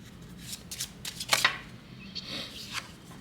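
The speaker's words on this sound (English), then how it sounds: "I wanted to shuffle a bit more" A deck of Lenormand cards is shuffled by hand in a quiet room, with a series of soft, irregular papery riffles and taps and one sharper flurry near the middle.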